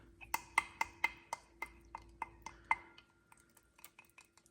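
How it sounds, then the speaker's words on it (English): A spoon taps and scrapes against a bowl while stirring Mexican cornbread batter with buttermilk, giving a steady series of close, faint clinks in an even rhythm that slows and softens toward the end. "I'll set my buttermilk down a minute and get this started stirring up here"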